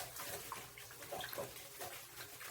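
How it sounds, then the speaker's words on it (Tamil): Prawns being rubbed and washed by hand in a little water with salt, making soft, continuous sloshing and swishing close by at low volume. "போட்டு கொஞ்சமா தண்ணி ஊற்றி நல்லா இந்த உப்புல கழுவணும்."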